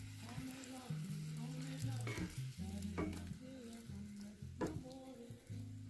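Green curry with coconut milk being pushed around a pan on a camper van stove, a soft steady sizzle with scraping stirs and a few utensil knocks, close and fairly quiet.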